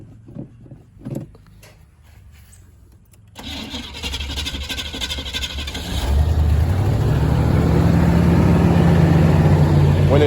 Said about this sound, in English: When I crank this one up, of course, I gotta wait till she idle up